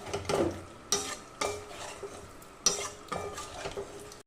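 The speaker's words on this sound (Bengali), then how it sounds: "এবার একটু জল দিয়ে এটাকে ভালো করে কষিয়ে নেব" Jackfruit and potato fry with spices in a pan after a splash of water, a low sizzle punctuated by several distinct scrapes of a spatula stirring against the pan, close by with no speech.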